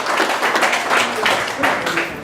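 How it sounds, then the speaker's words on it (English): An audience at an Italian Americans in Baseball tribute evening breaks into applause, a steady wash of many hands clapping that carries through to the end and fades slightly, with a voice speaking over it. "A big round of applause, please."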